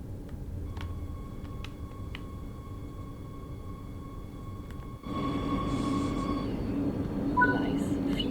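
A Talent 2 train in a simulator on the Leipzig–Dresden line rumbles at a platform with a steady tonal hum, then grows louder and rougher as it rolls on, with faint clicks and a brief squeal.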